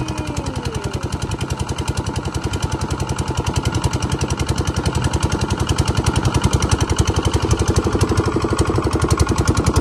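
Small boat engine running steadily at close range, a loud continuous rapid chugging pulse that holds an even rhythm and grows slightly louder, with no other sounds.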